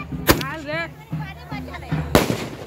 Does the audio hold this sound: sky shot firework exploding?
yes